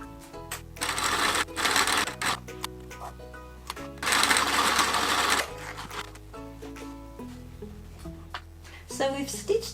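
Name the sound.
sewing machine stitching quilt pieces together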